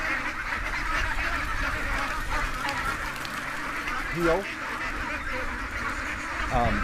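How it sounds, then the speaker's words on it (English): Ducks quack a few times in the background as they are let out of their pen in the morning, a couple of short honking calls rising above steady outdoor noise and a voice talking. "we're gonna let the ducks out"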